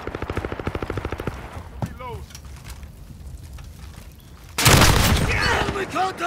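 Video game gunfire with rapid automatic bursts at first, scattered single shots through the middle, then a sudden loud barrage of heavy fire near the end, with game radio chatter mixed in.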